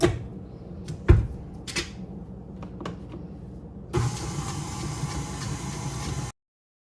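Electric hand mixer beating vegan chocolate chip cookie batter in a bowl, a steady whirring drone that starts partway through after a few scattered clinks and knocks, running close and loud until it cuts off.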